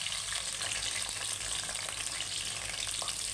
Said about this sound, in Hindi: अब हम इसके अंदर प्याज ऐड करेंगे।